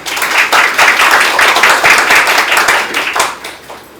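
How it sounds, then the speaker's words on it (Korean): Steady applause from a seated audience welcoming the guest lecturer at a Seoul National University policy forum on real estate finance and housing policy, dense hand claps sustained loud and close for the full stretch before fading slightly at the end. "큰 박수로 맞으십니다"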